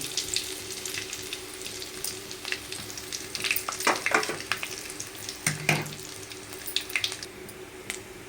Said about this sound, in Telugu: ముందు శనగలకి పోపు పెట్టేస్తున్నాను కొంచెం వెల్లుల్లి వేసాను